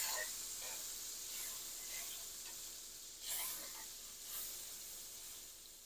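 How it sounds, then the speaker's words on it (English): Butter melting in a hot skillet before hamburger patties go in, giving a steady bright sizzle and hiss that swells briefly a couple of times. It sits close, under light talking. "You can see our skillet's good and hot. We're just going to let our butter melt in there with that."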